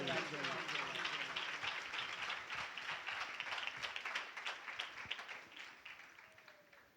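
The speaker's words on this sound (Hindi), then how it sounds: "जोरदार ताली बजाएं एक बार फिर इस कलाम के लिए" An audience at a religious gathering applauds, a burst of clapping that is loud at first, then thins into scattered claps and fades out.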